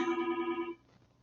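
A phone rings indoors with a short warbling electronic tone, fairly faint, then stops abruptly.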